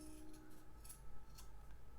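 Scissors snip excess fabric above a sewn face mask seam, giving a few brief, faint cuts against a quiet room hum.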